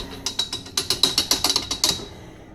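A battery backup is pushed into a Genie garage door opener, giving a quick run of about a dozen crisp ratcheting clicks up close, then falling quiet.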